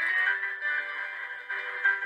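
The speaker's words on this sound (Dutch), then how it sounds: "Weer melding in mijn scherm." An on-screen notification chime plays during a piano-playing reaction, a steady tonal ring held for about two seconds at moderate level with no talking.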